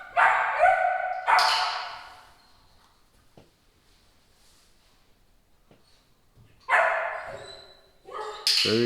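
A small puppy yaps and whimpers in short, high-pitched bursts close by, with a quiet pause in the middle before more barking.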